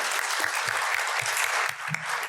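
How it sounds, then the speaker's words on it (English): An audience applauds for author Claudia Gray at a fan event, a dense, continuous wash of clapping with a few low murmurs beneath it. "can we give everybody just give her a round of applause?"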